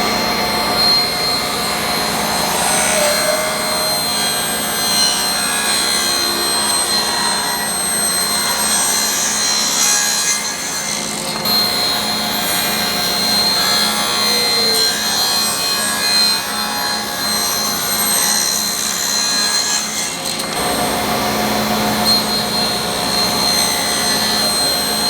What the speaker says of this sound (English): we're going to rip these in half